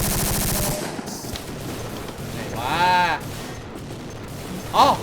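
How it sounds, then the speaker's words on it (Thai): Rapid automatic gunfire in the video game Codename CURE, bursts of fast shots and sharp impacts crackling loudly over game sounds. "มันยิงอะไรรัวขนาดนั้นวะเนี่ย"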